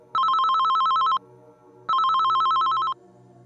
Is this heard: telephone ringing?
yes